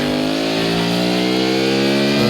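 Steady, loud engine drone of cars passing close on a road, a continuous revving hum filling the whole moment with no talk over it.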